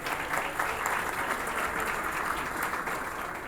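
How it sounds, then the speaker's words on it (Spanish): A large audience applauds steadily at a national industry anniversary celebration, a dense, even wash of clapping from many hands that holds from start to finish with no voices over it. "Un fuerte aplauso."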